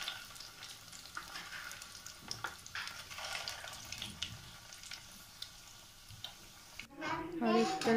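Sabudana vada fry in hot oil with a bubbling, crackling sizzle up close, swelling briefly louder and splashier at the end.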